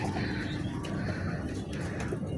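Domestic pigeons kept by a hobbyist coo in low, soft murmurs from a flock nearby, a continuous dense burble with a few faint higher chirps.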